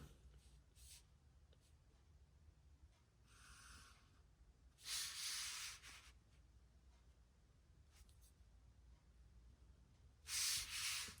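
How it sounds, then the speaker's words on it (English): A gray marker is drawn across paper in a few short, quiet rubbing strokes separated by pauses, with two longer, louder swipes standing out against a faint, hushed background. "let's use this gray marker here to kind of follow through"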